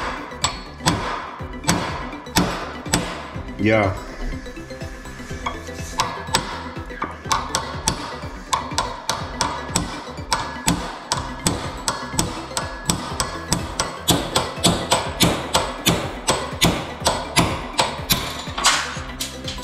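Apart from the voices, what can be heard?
hammering out door hinge pin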